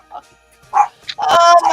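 A dog gives several short, yippy barks and whines close by, and the barking grows louder toward the end.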